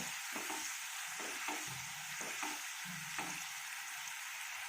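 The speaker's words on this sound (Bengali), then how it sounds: "এরপর এতে দেব টমেটো পিউরি আবারও মিশিয়ে নেব সব কিছু মিশিয়ে নেব" Tomato puree stirred into a frying katla fish curry, Bengali kalia style, with a steady loud sizzle throughout and several low scraping stirs of a spoon through the thick gravy.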